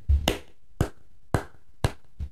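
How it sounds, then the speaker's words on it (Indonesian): Five separate hand claps, close and crisp, spaced about half a second apart with brief silence between them and no voices. "Ini tepuk tangan."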